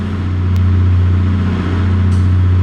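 A truck engine with an underslung exhaust, from the BeamNG driving game, drones loud and steady near the listener with a strong low hum, holding at its quietest idle-like level throughout.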